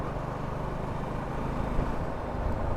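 Steady engine drone and rushing road and wind noise from a Suzuki V-Strom motorcycle while riding, a constant dense rumble with no pauses.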